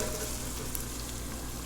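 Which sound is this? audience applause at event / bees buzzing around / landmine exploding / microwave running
microwave running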